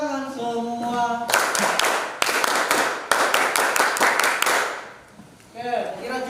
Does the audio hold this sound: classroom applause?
yes